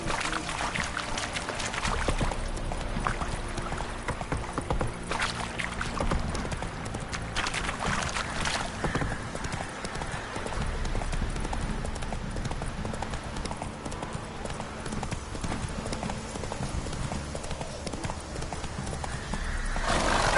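Horse hooves clip-clop steadily in The Witcher 3 while a rider travels, a continuous rhythmic trotting under music and game ambience, with a brief whinny.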